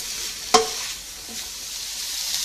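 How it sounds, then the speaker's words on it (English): Chorizo sausage and vegetables sauté in a pan with a steady soft sizzle, broken by one sharp clack of a utensil early on and lighter stirring scrapes after it. "So we're going to saute this for a while to brown the meat a little bit and soften the vegetables as well."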